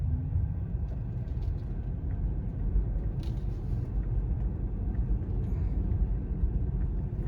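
A Tesla Model 3 drives along a road with a low, quiet rumble of tires and road noise inside the cabin, steady throughout with faint clicks and no engine roar.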